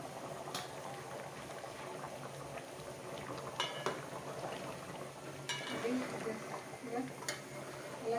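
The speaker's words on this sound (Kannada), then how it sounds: "ಇದೀಗ ಚೆನ್ನಾಗಿ ಕುದೀತಾ ಇದೆ" Fish curry bubbling steadily in a pot on the stove, a continuous soft boil with occasional light metallic clinks of a lid or utensil, fairly close and moderately quiet.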